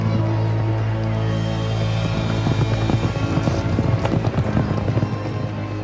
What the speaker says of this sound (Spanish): Carreras de caballos en Ludwigslust.